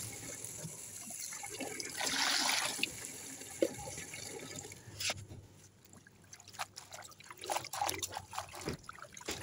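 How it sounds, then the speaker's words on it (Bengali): Leafy greens are washed in water by hand, with splashing, trickling and sloshing, a brief louder gush early on, then irregular close splashes and drips. "আমি এখন পাতাগুলোকে খুব ভালো করে ধুয়ে নিব।"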